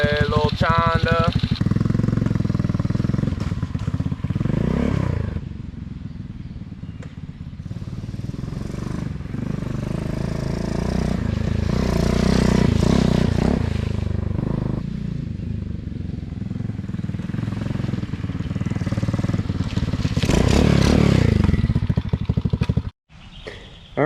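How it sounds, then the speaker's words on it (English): A small Chanda cafe racer motorcycle engine revs and putters close up while riding, rising and falling through gear changes, with steady wind and road rumble and a sudden stop near the end. "So this is what it looks like riding around on the little Chanda."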